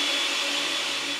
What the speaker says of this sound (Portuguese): E a gente vai triturar ele aqui no liquidificador.